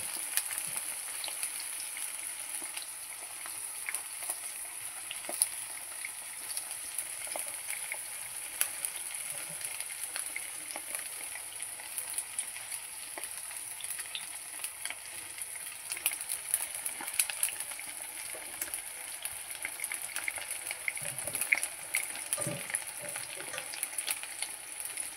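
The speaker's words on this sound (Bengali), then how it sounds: "প্যালকার জলটা খুব ফুটে এসেছে, এখন পাতাগুলো দিয়ে দিব" Leaves go into a pot of hard-boiling water, giving a faint, continuous bubbling hiss with scattered small pops and soft splashes, steady throughout.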